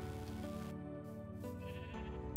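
A sheep in the Minecraft video game bleats in a sustained, wavering call, faint and steady against a constant background of game music.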